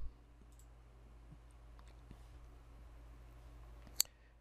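A single sharp computer mouse click near the end, close and quiet, against a steady low hum of desk and computer noise, as a user clicks a button in CAM software on a PC.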